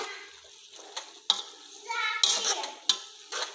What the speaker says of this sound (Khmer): យើងមកកូរគ្រឿងយើង